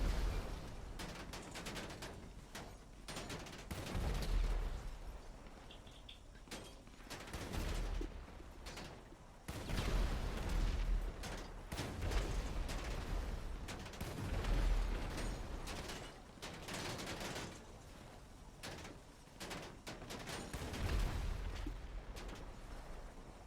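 Heavy cannon fire from an APC's gunner seat in GTA Online, with repeated booming bursts and clattering mechanical noise rolling through the whole stretch, loud and close, with no talking.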